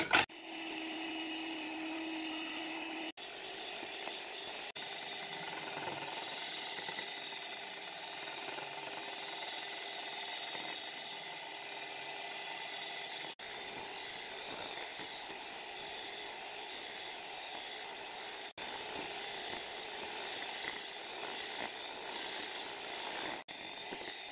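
Electric hand mixer beating very cold heavy cream for homemade plombir ice cream, a steady continuous whir that starts low and runs on at a higher speed, with brief breaks, alone without talk.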